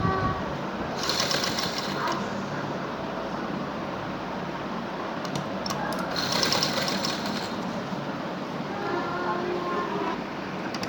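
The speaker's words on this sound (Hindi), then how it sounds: "इसके साथ साथ नीचे स्टिचिंग करेंगे" A sewing machine stitching a triangle-shaped neckline on a garment, running in a continuous fast whir with two brief louder bursts, close and steady throughout.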